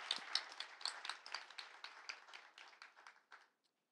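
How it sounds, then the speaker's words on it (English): Audience applause at a cannabis industry awards event, many hands clapping in a dense burst that thins out and fades to silence near the end. "So round of applause for Tahira."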